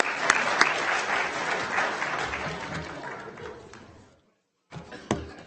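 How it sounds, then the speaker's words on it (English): Audience applause in a county board of supervisors meeting room, a dense round of clapping that fades out, breaks off briefly, then resumes with a few scattered claps. "One more big round of applause"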